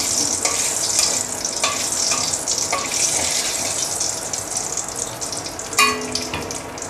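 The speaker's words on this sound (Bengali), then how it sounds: "এখন ওই তেলে দিয়ে দিচ্ছি শুকনা মরিচ" Dried red chilies hit oil left from frying eggplant, making a bright, crackling sizzle close by, with stirring scrapes and a sharper burst near the end.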